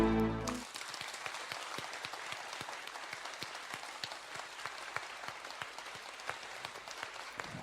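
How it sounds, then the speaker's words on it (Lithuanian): A crowd applauds steadily at a church healing meeting, many hands clapping in a continuous patter after a brief loud sound at the start. "Ir už juos ploja, už jų nugaros žmonės ploja."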